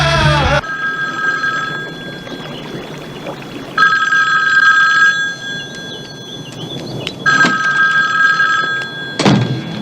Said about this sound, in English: This phone's been ringing for 10 minutes.